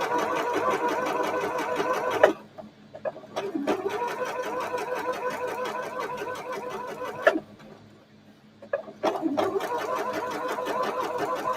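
A sewing machine stitches a dart on a shirt at a steady close whir, stopping twice briefly for a second or so before running on again.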